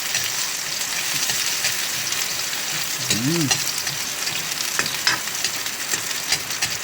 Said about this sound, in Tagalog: Lagyan na po natin ang sibuyas at bawang.